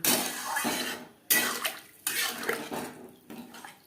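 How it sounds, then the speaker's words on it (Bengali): Water poured into a pot of potatoes cooking with spices, for a rohu fish curry with radish: close splashing and gushing in several surges, with a light clink of cookware between pours. "মশলার সাথে আলুগুলো রান্না করে নেওয়ার পর দিয়ে দেবো জল"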